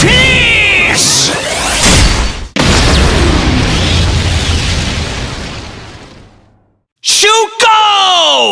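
Ohger Calibur toy sword from the King Ohger series, firing loud electronic effects: a bright whooshing blast, a long crackling rumble that fades to silence, then sharp synthetic chimes and zaps.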